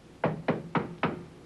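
Four evenly spaced, firm knocks on a hotel room door, close and crisp, each about a quarter second apart, against a quiet background.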